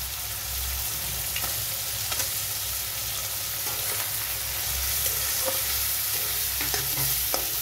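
Green chili frying in an oil-filled pan while cooking kalmi shak, a steady close sizzle with intermittent scraping and clinks of a stirring spatula throughout, no talking.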